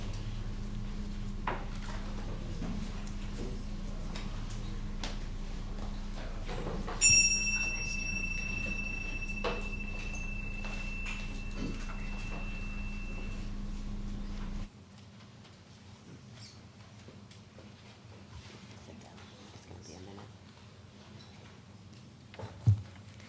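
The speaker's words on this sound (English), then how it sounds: "now let us center our hearts and minds with the ringing of the chimes" Chimes ring at a church service, a few soft metallic strikes with long, clear tones sounding faint and distant in a quiet room, followed by near silence.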